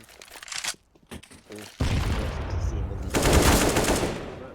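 AK rifle fire in Counter-Strike on the Mirage map, rapid bursts of automatic shots, loud and close, with dense sustained fire building toward the end while voices talk underneath.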